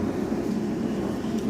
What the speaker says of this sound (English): There's an airplane going by, of course.